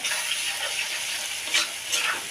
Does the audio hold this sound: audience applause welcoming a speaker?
no